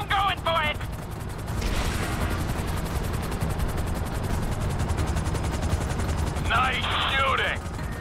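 Continuous rapid machine-gun fire from a helicopter in Grand Theft Auto V rattles on under a rotor drone, loud and steady throughout, with brief shouted voices at the start and near the end.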